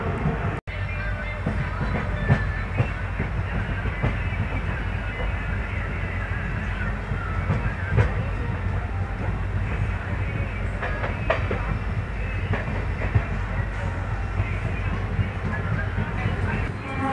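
Indian Railways intercity train 20485 hauled by a WDP4D diesel locomotive, slowing for a temporary speed restriction: steady low rumble of wheels and carriage with intermittent rail clicks and rattles, heard from on board, with a voice talking over it.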